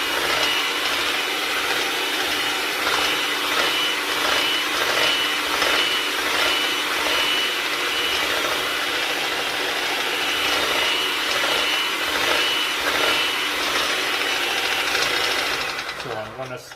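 An electric mixer whips egg whites to stiff peaks for a Japanese cheesecake, a steady, loud motor whir with a wiry beating rattle that holds evenly throughout and eases off at the very end.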